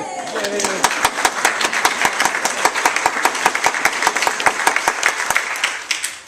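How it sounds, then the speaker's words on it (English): Church congregation applauding their reappointed pastor, a dense burst of many hands clapping in steady rapid rhythm that fades at the end, with a brief voice at the start. "I wasn't really looking for applause, but thank you very much"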